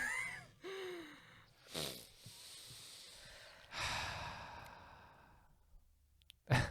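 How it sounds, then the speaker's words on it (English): Slow deep breathing runs through several long inhales and exhales with audible sighs and snorty breaths, close and soft, with short quiet pauses between. "Deep breathing."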